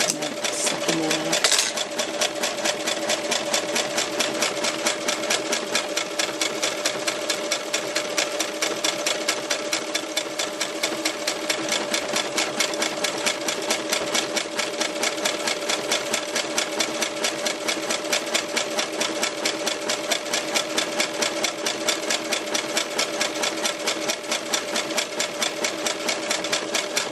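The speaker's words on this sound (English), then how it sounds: "And that's it, that's the buttonhole done." Sewing machine stitching a buttonhole on a decorative kitchen towel, running steadily with a fast, even mechanical chatter for nearly the whole stretch, close and continuous with no talking.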